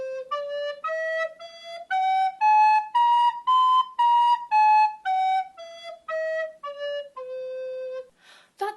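Recorder playing a quick run of separate notes, each tongued with a da-ga articulation. About a dozen short, clear, pure tones step up in pitch and then back down, close and bright, with brief gaps between notes and no speech.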